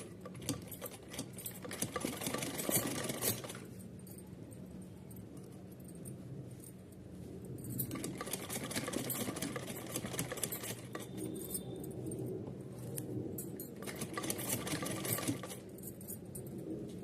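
A sewing machine runs straight seams on a small Laddu Gopal summer dress, whirring in several bursts with quieter pauses between, close by and alone.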